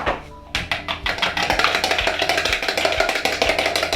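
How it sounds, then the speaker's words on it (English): Two eggs are whisked with a fork in a bowl, a quick run of close, regular clicking taps against the bowl's side that starts after a brief pause and keeps a brisk rhythm. "give them a bit of a whisk with a fork"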